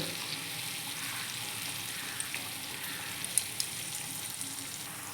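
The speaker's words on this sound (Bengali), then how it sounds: "পেঁয়াজ অল্প ভাজা হয়ে গেছে" Onions fry in a pan with a soft, steady sizzling hiss, fairly quiet and even, with a couple of faint ticks and no talking.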